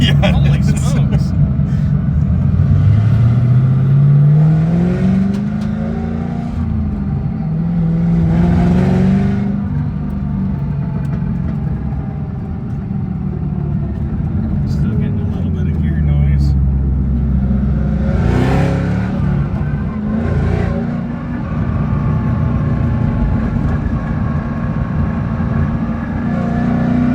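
A custom Saleen Mustang engine revs loudly and rises and falls several times at close range, with people exclaiming and talking over it throughout.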